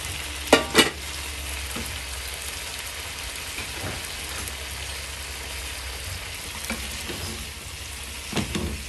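Sausages for rougail saucisse stirred in a hot pan, a constant loud sizzle with a few sharp clacks of the utensil against the pan near the start and again at the end.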